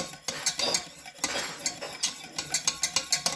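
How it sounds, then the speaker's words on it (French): Rose water being stirred a little at a time into a warm Galen's cerate cream, a spoon clinking and scraping against the bowl in quick, steady, rhythmic strokes, close and alone. "incorporer l'eau de rose petit à petit en agitant continuellement"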